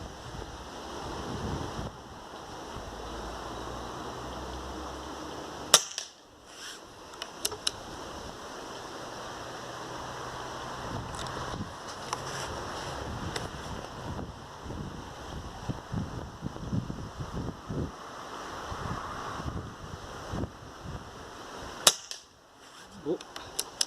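Two sharp, snappy cracks from an Air Arms S400 air rifle fired outdoors at a target, spaced well apart, over a steady bed of wind noise with faint background rustle.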